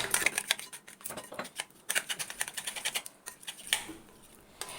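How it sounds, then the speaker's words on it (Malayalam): Spoon scraping and clinking against a bowl while mayonnaise, hot chilli and tomato sauce are mixed, a run of quick, close, uneven taps and scrapes with no talk. "കേട്ടോ നല്ലോണം ഒന്ന് മിക്സ് ചെയ്തെടുക്കാം"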